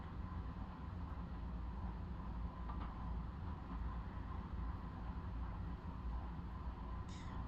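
Train in a tunnel in Train Simulator Classic on the Hampstead line, with a steady loud rumble and roar running throughout, plus a brief high hiss near the end.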